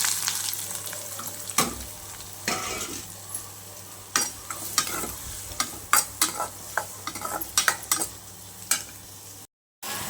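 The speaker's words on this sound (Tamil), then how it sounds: "ஆனியன் நல்லா ஃப்ரை பண்ணிகிட்ருக்கேன்." Onion and chili fry in a pan alongside paneer with a steady sizzle, broken by repeated scraping and stirring strokes of a utensil, close up and fairly loud, ending in a brief cutout.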